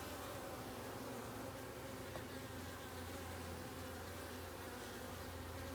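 A dense, steady hum of honey bees fills an opened beehive, an unbroken faint drone with no pauses or speech.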